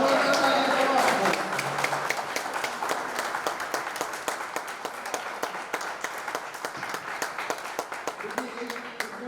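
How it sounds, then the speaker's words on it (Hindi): Applause from a live audience after a singer's performance, dense clapping that starts loud and thins into scattered, steady claps over several seconds, with voices audible underneath. "बहुत जोरदार तालियां दो।"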